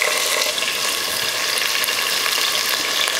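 Long sliced onion and whole spices sizzle steadily in hot oil for a Tamil veg biryani, a dense, even frying hiss close by with no talk.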